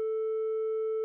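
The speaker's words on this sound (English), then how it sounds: "And let's go ahead and crush this sine wave here." A steady sine-wave test tone pushed through a soft clipper plays alone as a constant, loud buzzy pitch with added harmonics, cutting off abruptly after about a second.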